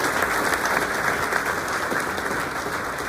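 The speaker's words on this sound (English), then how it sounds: "You guys did really well with the claps." Audience applause for elected officials at a graduation ceremony, steady and full across the whole stretch, a dense crowd clapping without a break.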